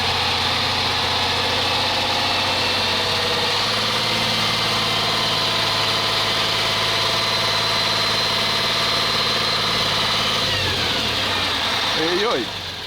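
A Praga V3S 6x6 truck on big wheels grinds through a swamp, its engine holding a steady, loud, droning rumble with whining overtones that dips and shifts near the end as it strains.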